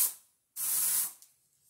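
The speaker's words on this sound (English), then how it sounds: "I bought this Glade spray. It's the Tranquil Lavender Aloe scent." A Glade Tranquil Lavender Aloe air freshener is sprayed near the microphone: a brief puff of hiss, then a longer, steady burst of about half a second that cuts off cleanly, with no talk.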